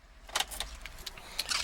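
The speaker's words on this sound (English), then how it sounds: "Let's turn off the car." A key turns and jingles in the ignition of a 2011 Chevrolet Suburban LT SUV as it is switched off, giving a short cluster of close metallic clicks and jangles with no voices.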